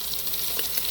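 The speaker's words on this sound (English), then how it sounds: "give you a close-up view here of the sear" Meat sears in an Instant Pot with rosemary and garlic, a close, soft continuous sizzle and crackle with a few brighter pops.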